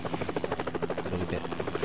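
Helicopter rotor from the Helicopter Simulator 2014 video game, a steady loud rhythmic chopping thump that pulses continuously throughout.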